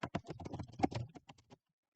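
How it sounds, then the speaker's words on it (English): Quick, uneven clatter of keys on a computer keyboard, close and fairly quiet, in a burst of taps that stops abruptly into silence. "I don't know what code am I typing."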